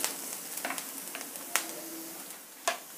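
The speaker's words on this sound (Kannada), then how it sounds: "ಈರುಳ್ಳಿ ಎಲ್ಲ ಚೆನ್ನಾಗಿ ಫ್ರೈ ಆಗಿದೆ" Onions fry in a pan with a faint, steady sizzle, broken by a few sharp stirring clicks and spatula scrapes.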